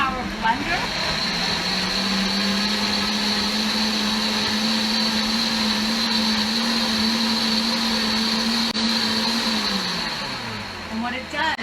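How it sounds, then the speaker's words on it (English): High-power blender running its soup cycle on fennel and butternut squash, a loud steady whir holding for about ten seconds before winding down, with a voice heard faintly underneath. "It's a high power blender."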